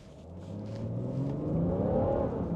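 A BMW 640d Gran Coupe accelerating hard on a wet road, the engine note rising steadily in pitch and loudness over a couple of seconds from inside the car, with road roar underneath.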